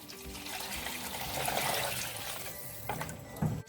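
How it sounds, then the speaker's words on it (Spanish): Water pours steadily into a pot of Dominican sancocho with a soft, continuous splashing trickle, fairly quiet and without talk. "Procedo a echarle más agua."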